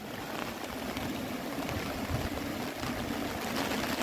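Floodwater rushing through a swollen river after extreme rain in Gujarat, a dense, steady roar of flowing water that stays loud and unbroken throughout, with no voices.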